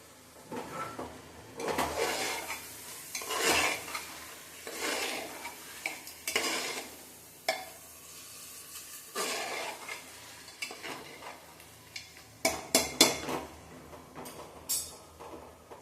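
Mint and coriander leaves are stirred in a cooking pan, with repeated scraping strokes of a utensil and occasional clinks against the pan over a soft sizzle, close and without talking.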